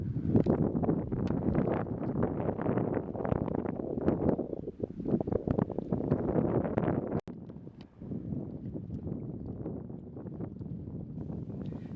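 Gusty wind buffets the microphone in a heavy, rumbling roar that rises and dips, with no voices present, aboard a sailing vessel.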